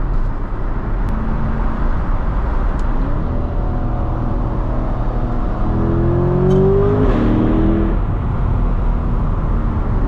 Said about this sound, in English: This has an 8-speed dual clutch transmission, and this thing shifts lightning fast.